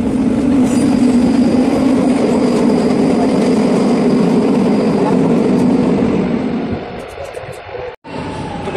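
A Lisbon metro train rumbles along from inside the car, a loud continuous rolling roar with faint clicks and squeals, easing down near the end as it slows.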